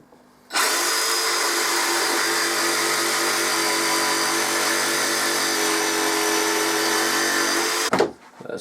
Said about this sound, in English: I'm going to cut it now with my jigsaw.